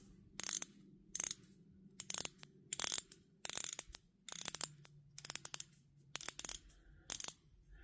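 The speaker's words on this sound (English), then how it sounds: "but that bezel action, listen." The bezel of a Dominator Del Mare watch is turned in short bursts of quick ratcheting clicks, close and fairly quiet, with brief silent pauses between roughly a dozen turns.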